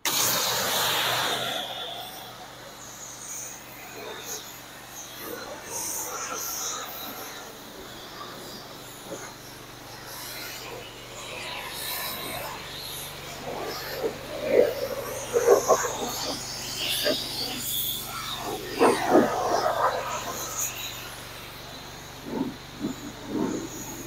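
Water spray rinses soap suds off the side of an RV, a steady hissing wash that runs throughout and swells into louder splashing bursts in the second half.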